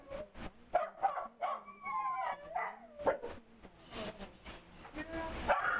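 Rescued Hurricane Harvey dogs barking at a shelter, several dogs yapping and barking in close, uneven bursts, with a whining, howl-like tone running through the middle.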